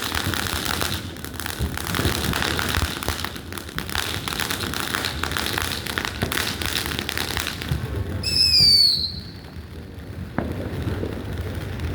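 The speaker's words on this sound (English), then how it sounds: "Bro, longest firework ever" Fourth of July fireworks crackling and popping in a long continuous barrage, with a bright whistling screech rising near the end and a sharp bang after it.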